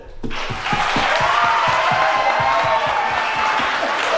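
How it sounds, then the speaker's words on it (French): An audience at a Rotary RYLA event breaks into loud applause and cheering for a woman called onto the stage, with rhythmic clapping in unison and crowd shouts sustained throughout. "Je vous prie d'applaudir bien fort Grace, qui est un peu timide, et l'inviter à venir en scène."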